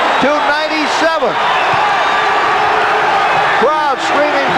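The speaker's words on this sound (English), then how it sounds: "Crowd screaming for defense on their feet at the arena" Arena crowd at a college basketball game between Duke and Miami, a loud continuous roar of screaming and cheering with whoops and sneaker squeaks rising over it, the crowd on its feet.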